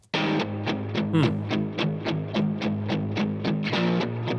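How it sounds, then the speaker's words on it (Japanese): Distorted electric guitar chugging in tight palm-muted strokes, a steady rhythmic pattern of short, punchy chords, loud and close. "いわゆるブリッジミュートのギターを左右でそれぞれ弾いてます"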